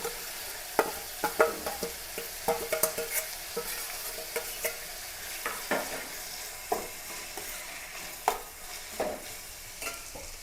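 Crushed ginger, garlic and green chillies fry in a pan with a steady close sizzle, broken by frequent scraping stirs and soft clinks of a spoon against the pan.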